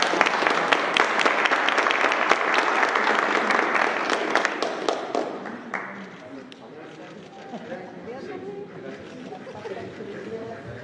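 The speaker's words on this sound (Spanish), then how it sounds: "Un aplauso a todos." An audience at a press conference applauds loudly, with dense, sustained clapping that tapers off around midway into softer scattered claps and low murmuring chatter.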